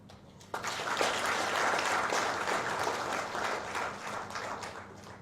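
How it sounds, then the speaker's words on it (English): Audience at a general assembly meeting gives a sustained, dense round of applause for the organizing committee, starting abruptly and holding steady at full volume for several seconds. "let us give a very warm clap to the organizing committee for organizing this milestone today."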